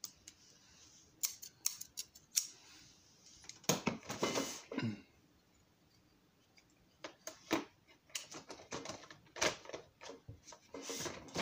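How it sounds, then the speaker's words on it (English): Large scissors snip through material in a workshop setting while building a layout, giving scattered close, crisp cuts in short bursts separated by quiet pauses, with no talking. "I don't know why I'm still using these big scissors."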